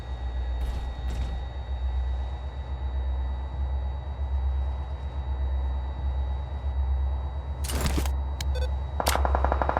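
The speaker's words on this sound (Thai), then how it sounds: "เฮ้ยเสียงปืนนั่นน่ะ" Gunfire in PUBG Mobile on the Vikendi map sounds over a steady low engine rumble: a few sharp shots at first, then a louder burst and a rapid volley near the end.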